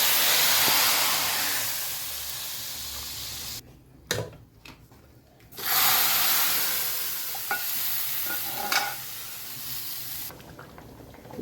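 Cumin seeds sizzle in hot oil for a tempering, a loud broadband hiss broken by brief pauses and small stirring clinks.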